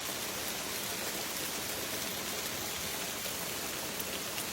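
Steady rain falling at a cabin during a storm, a dense even hiss of drops on surfaces throughout, with no voices.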